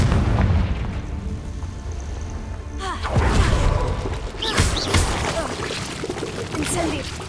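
A Confringo fire spell explodes in Hogwarts Legacy: a loud, booming blast bursts in around the middle and is followed by crackling debris and scattered impacts, with game voices heard around it.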